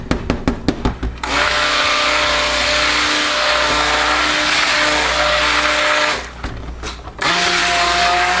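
A stick blender whirs steadily at high speed in soap batter, loud and close, after a few short clicks, briefly dipping before resuming its continuous motorized hum.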